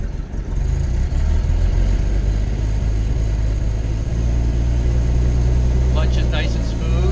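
A 1928 Buick's engine pulls away from a standing start in first gear, a steady loud low rumble that holds throughout, with a voice talking over it.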